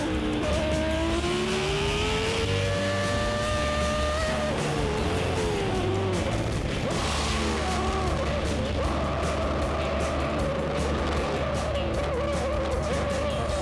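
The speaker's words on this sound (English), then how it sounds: "He quickly got used to the car and started pushing the accelerator even harder." A Formula 1 car driven by a celebrity accelerates hard, its loud, close engine note climbing in pitch and dropping back with each gear change, repeated over several seconds of continuous roaring.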